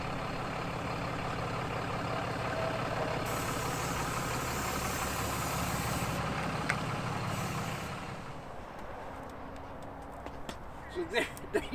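A Ram 2500 pickup with a Cummins diesel engine runs steadily at idle for most of the stretch, a continuous low rumble that drops away near the end, leaving faint clicks and handling noises.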